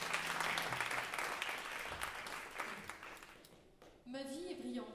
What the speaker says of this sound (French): S'il vous plaît, applaudissements pour les fans de musique.